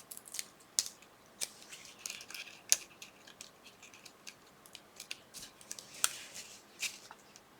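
Scissors snip apart paper craft pieces in a quiet room, with a run of soft, irregular clicks and crisp cuts and a few sharper snaps, close and fairly faint.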